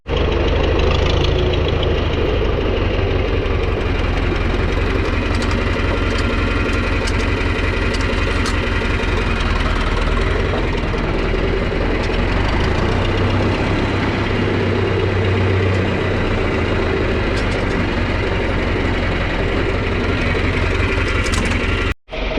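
A tractor engine idles steadily with a rough, knocking mechanical rumble and vibration, held close and loud with no talk throughout, then cuts off abruptly at the very end.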